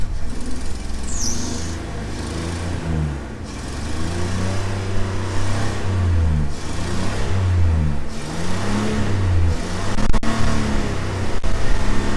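A small engine, its intake dumped full of sand and water, runs roughly after a hard start, with uneven surging revs and sputtering, loud and close throughout.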